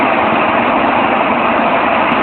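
Airbus A321-200 jet engines idling before takeoff at Los Angeles LAX runway 25R in the Infinite Flight simulator, a steady, loud, broadband engine roar and hiss holding evenly throughout with no talk.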